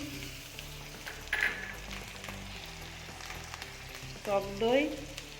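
Chopped tomato fries with turmeric and cumin powder for chicken curry, a soft, steady sizzle heard close, with a couple of brief louder bursts of stirring and scraping in the pan.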